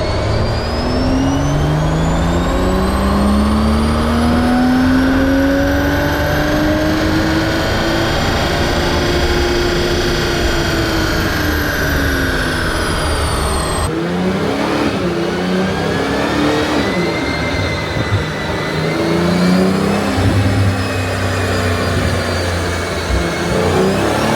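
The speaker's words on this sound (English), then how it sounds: "So first off, we'll do a dyno run to get a baseline figure." A Toyota GR Supra revs hard on a dyno, its engine rising in a long, loud pull, easing off, then climbing again under constant roar, with no voices.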